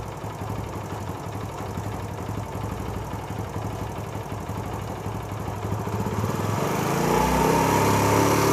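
A motorbike engine idles with a steady low putter while its carburetor is adjusted, then revs up toward the end, growing louder and higher in pitch, close and without talk.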